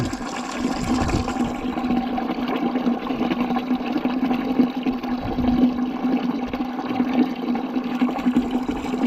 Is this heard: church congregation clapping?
no